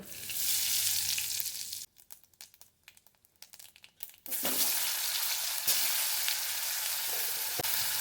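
Panch phoron seeds dropped into hot oil for an egg curry, a loud dense sizzle that breaks into sparse crackles and pops for a moment before a strong hissing fry surges back, close up with no talking.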